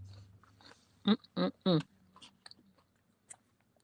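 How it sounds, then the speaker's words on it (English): An Asian pear is bitten and chewed up close, three loud wet crunches in quick succession followed by quieter chewing, with a voice faintly present. "And my Asian pear. This thing is good."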